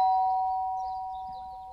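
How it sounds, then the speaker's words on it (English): A rusty old doorbell in the Broken Sword adventure game gives a single clear ding with a sustained ringing tone that slowly decays, heard alone. "There was a rusty old doorbell beside the main door."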